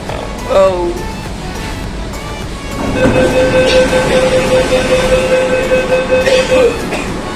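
A Kolkata underwater metro train runs between Esplanade and Howrah Maidan beneath the Ganga, with a steady close rumble and a long sustained tonal whine that rises partway through as the train moves.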